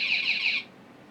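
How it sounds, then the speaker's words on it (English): An Accenta ADE Gen 4 burglar alarm's external siren being tested gives a loud, bright wailing tone for about half a second, then cuts off abruptly into quiet room tone. "we can now test the external siren by pressing 3"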